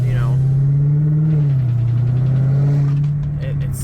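A Dodge Challenger Hellcat Redeye Widebody engine hums with a deep, steady, loud drone that rises and dips slightly in pitch, with a person talking over it.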